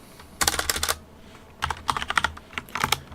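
Python code being typed on a computer keyboard: two quick flurries of close, crisp keystrokes separated by a short pause, with no talking.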